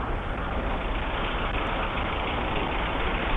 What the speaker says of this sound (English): That is the sound of probably a Ukrainian tank.